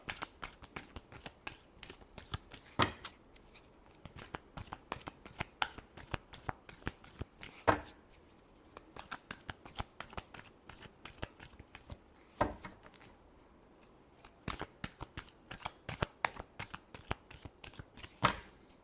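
Tarot cards are shuffled close up in a long run of quick, crisp riffles and flicks, with louder snaps now and then and no voice over the sound.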